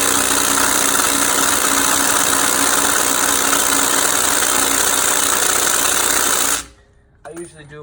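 A 27 mm socket on a Titan impact wrench hammers at a nut on a black Ford F-150, a loud, continuous rattling buzz close by that cuts off abruptly near the end, leaving a few faint knocks.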